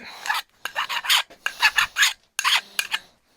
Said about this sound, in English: Let me get a file here so I can file this down real quick.